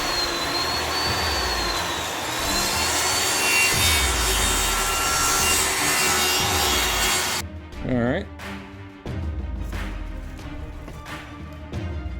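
Wood pieces for an ebike fishing trailer being cut by a loud power saw, which whines continuously for about seven seconds, pauses briefly, then resumes with rhythmic rasping strokes; no talking.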